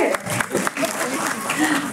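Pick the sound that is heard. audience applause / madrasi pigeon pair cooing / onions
audience applause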